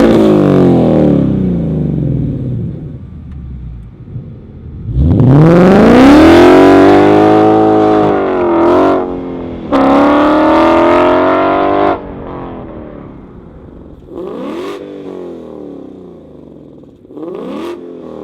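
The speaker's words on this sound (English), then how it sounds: "The improvement in sound is amazing. And the greatest part is the noise level is totally adjustable thanks to the Varex mufflers." A Ford Mustang GT with a 5.0L V8 and an XForce engine-back exhaust with Varex mufflers, revved loudly in several sharp bursts that rise and fall, with no talking.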